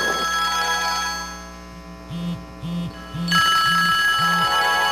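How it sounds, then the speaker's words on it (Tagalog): A telephone rings in a repeating pattern of short double trills, fairly loud and close, with a low background hum throughout. "Wala ka bang planong sagutin yung telepono?"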